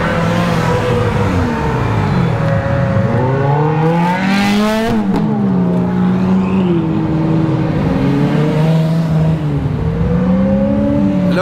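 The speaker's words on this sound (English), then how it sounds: "Oh, we have more cars, more Ferraris." Exotic cars including Ferraris drive past, their engines droning loudly and continuously with rising and falling revs as they accelerate and shift through gears close by.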